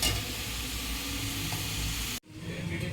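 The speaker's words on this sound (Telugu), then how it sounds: "ఇంకా మీడియం టు సిమ్లో పెట్టుకొని కూర వండుకుంటూ ఉండాలండి" Bitter gourd curry sizzles over medium-low heat in a pan, a steady close frying hiss with stirring, cutting off abruptly near the end to a quieter background.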